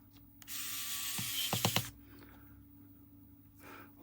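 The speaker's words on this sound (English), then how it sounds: "Now let's chuck a couple of little screws in." Small screws are driven into a Nintendo 3DS XL that had been split in half and is being repaired, giving a few close, faint mechanical clicks after a brief rush of handling noise, with no talk.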